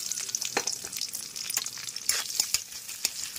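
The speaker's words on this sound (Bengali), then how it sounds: "পেঁয়াজগুলো একটু হালকা করে ভেজে নেবো" Onions sizzle steadily in oil left over from frying fish chops, a close bright hiss broken by scattered crackles and a few sharp spatters, with no talking.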